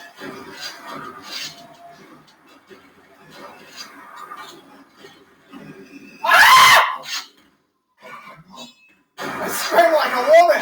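Man screams loudly in fright while playing Quake or Crash Bandicoot, two intense screaming bursts separated by a brief silence, with quieter talk and game noise before them.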